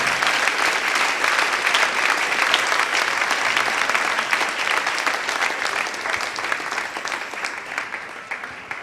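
A church congregation gives sustained applause during a sermon, dense even clapping that continues for several seconds with a slight easing toward the end, no speech over it.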